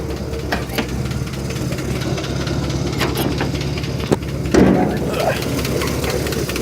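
A rebuilt stock engine in a 1955 Willys CJ-5 Jeep, converted to 12 volt, idles after a cold start with a steady low rumble and a few faint knocks and clicks over it.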